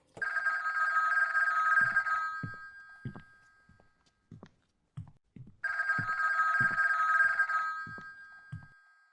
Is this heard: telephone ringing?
yes